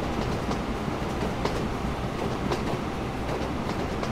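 A train runs along tracks in the Train Fever video game, giving a steady dense rumble with faint rhythmic clicks of wheels over rail joints, continuous and fairly loud.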